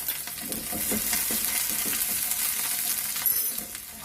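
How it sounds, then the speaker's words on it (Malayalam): Hot oil sizzles steadily as chopped garlic fries for a Kerala-style prawn roast, with scraping stirring and a few light metallic clinks from the pan. "നമുക്ക് ചോപ്പ് ചെയ്ത് വെളുത്തുള്ളി കുറച്ച് ചേർത്ത് കൊടുക്കാം"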